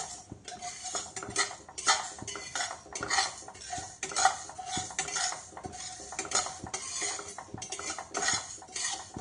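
Spices dry-roasting in a heated kadhai with no oil, a spatula scraping and clinking against the metal in a busy, continuous clatter, close and fairly loud, with no talking.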